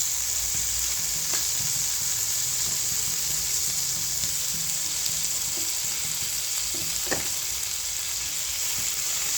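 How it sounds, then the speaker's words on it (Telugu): Tomatoes with turmeric fry in a pan for a curry, giving a continuous, even sizzle with a few faint clicks of stirring throughout. "ఇప్పుడు టమాటాలు వేసేద్దాము."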